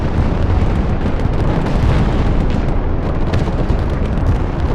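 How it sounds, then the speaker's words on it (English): Artillery barrage in the military strategy game Broken Arrow, a dense, continuous roar of overlapping explosions and booms filling the whole stretch at loud, steady volume with no talk. "That barrage will destroy everything."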